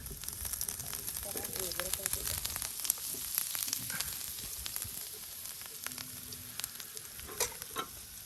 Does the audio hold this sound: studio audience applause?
no